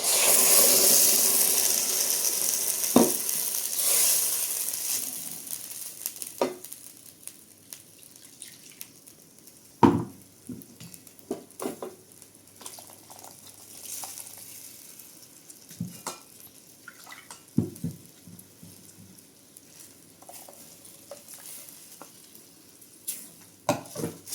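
Ground masala poured into a hot pan, giving a soft, fluctuating sizzle with scattered drips and small splashes, louder at the start and then quieter crackling and occasional sharp pops.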